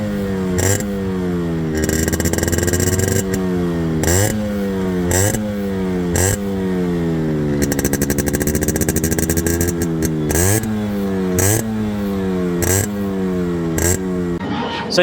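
A Yamaha RX two-stroke motorcycle, freshly restored, revving loud and close in repeated rising bursts that drop back to a crackling idle, with one longer sustained rev in the middle.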